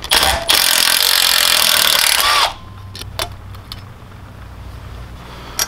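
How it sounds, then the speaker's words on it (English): Impact wrench loosening tight rocker nuts on a 196cc go-kart or mini bike engine during teardown: a loud, rattling burst lasting about two seconds, then a quiet workshop with a few faint clicks. "I had to use an impact on that because I was afraid I was going to strip the nut with a wrench."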